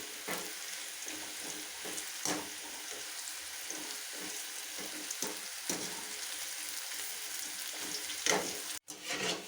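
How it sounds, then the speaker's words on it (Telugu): Bitter gourd pieces frying in oil for a village-style pachadi, giving a continuous close sizzle with occasional stirring scrapes and a brief clatter near the end. "గోల్డెన్ కలర్ వచ్చేదాకా వేంపుకోవాలి."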